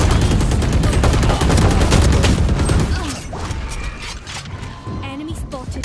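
Gunfire in a Valorant match, with a flashbang. It opens with loud, dense rapid bursts of shots, then drops to quieter scattered pops and game sounds.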